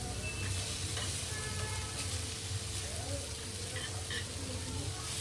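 Pomfret fish frying on a non-stick tawa with oil, giving a continuous close sizzle with faint scraping and clinks of utensils over a low background hum; no clear talk.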